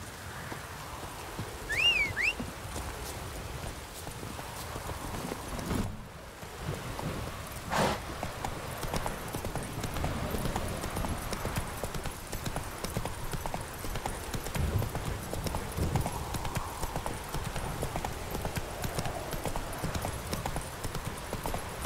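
Galloping horse hooves in The Witcher 3 video game, a steady rapid clip-clop running throughout at moderate loudness over a rainy ambient backdrop with faint distant rumbles.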